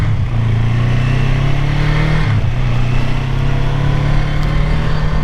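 A Kawasaki 454 LTD EN450 motorcycle with a 454 cc engine and a small lawnmower-like exhaust runs close and loud, a steady droning rev held throughout with a slight dip midway.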